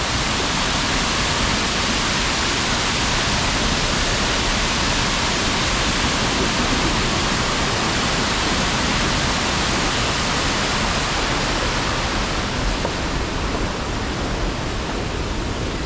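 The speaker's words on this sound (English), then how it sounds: "Must be trying to let some extra water go." Water rushes out through an open hatch, a steady, loud, broadband roar like a waterfall that stays constant throughout with no breaks.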